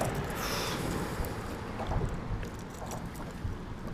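Wind blowing across Lake Norman beside a fishing boat, a steady rushing gust with some low buffeting against the microphone. The sound is close and continuous, and no one is talking.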